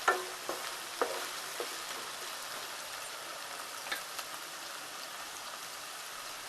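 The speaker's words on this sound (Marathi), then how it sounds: "बटाटे आणि वांग टाकतोय. छान परतून घेऊया." Potatoes and eggplant stir-fry in a pan with a soft, steady crackling sizzle, punctuated by several faint taps and scrapes of a spatula, and no voices.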